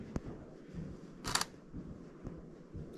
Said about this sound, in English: nice shutter sound